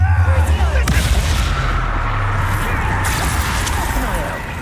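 In the Hogwarts Legacy video game, the Bombarda spell sets off a loud explosion: a heavy booming blast at the start, then a rumbling roll of debris that slowly fades.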